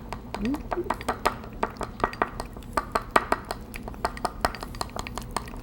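A spoon clinks repeatedly against a bowl while stirring a honey lavender glaze for salmon, with bright, irregular taps close by and people talking over it.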